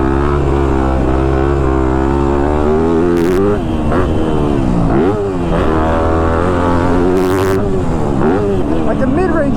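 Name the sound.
Yamaha YZ250F dirt bike engine revving while riding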